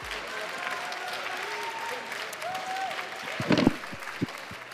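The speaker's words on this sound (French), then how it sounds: "Merci, on peut l'applaudir bien fort." Audience applause following a performance, a broad steady wash of clapping held at an even level, with a few louder individual claps near the end and brief talk over it.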